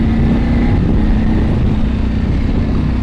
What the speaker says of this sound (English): you can hear the exhaust is loud right now